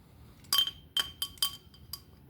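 Several sharp glass clinks, five bright strikes spaced irregularly over about two seconds, as a bottle of Shiner Black Lager is opened and handled against a glass; close and fairly quiet, with no talking.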